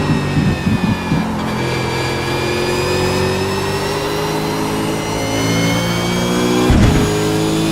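A racing car at Monza accelerating hard in third gear after a downshift, the engine note climbing in a smooth rising whine, loud and close, with gear clunks early and a brief thump near the end.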